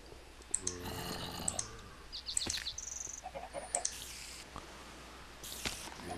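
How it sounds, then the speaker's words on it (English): Chickens in the Minecraft Tekkit modpack, making short chirps and clucks scattered among clicking and squishy game effects, all fairly faint. "More chickens."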